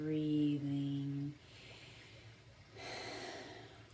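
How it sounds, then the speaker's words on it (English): Slow, relaxed breaths are drawn in and let out through the nose during a guided breathing exercise, soft airy rushes following an earlier voiced tone, close and quiet with no talking. "inhale, exhale through the nose"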